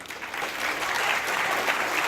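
An audience at a political talk on democracy applauds, the clapping rising from a ragged start into a dense, sustained round that holds steady until the end.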